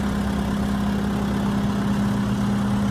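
Tractor engine running steadily at idle while its hydraulics hold cedar baluster pieces for tenon cutting, a constant close low hum with no change in pace.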